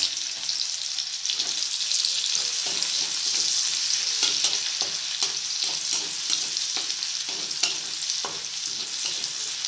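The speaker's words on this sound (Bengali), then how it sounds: "ভেজে রাখা চিংড়ি মাছের তেলের মধ্যে দিয়ে দেব রসুন কুচি," Chopped garlic frying in oil left from frying prawns, a steady close sizzle with scattered clicks of stirring throughout, no voices.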